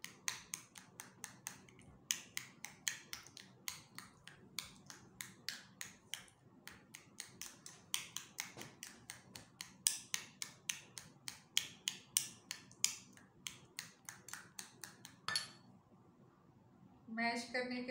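Papaya pulp is mashed in a bowl with a steady series of quick, soft tapping and squishing strokes, evenly paced and close, with a voice talking quietly underneath.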